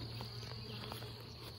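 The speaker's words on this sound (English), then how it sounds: "This is a large swarm of bees." A large swarm of honey bees gives off a dense, continuous buzz, steady and faint, with no voices over it.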